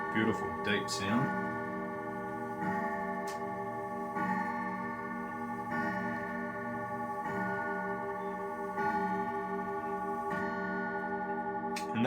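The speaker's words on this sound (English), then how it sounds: "And that's the last chime for the evening." A clock strikes its final evening chime, a deep resonant bell tone that rings on with steady sustained harmonics and slow decay, loud and close, with faint ticking underneath.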